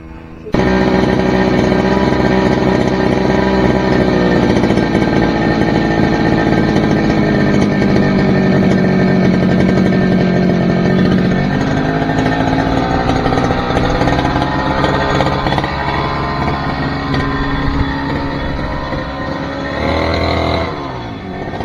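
A grass cutter engine runs continuously and loudly close by, a buzzing whine whose pitch shifts up and down as the throttle changes.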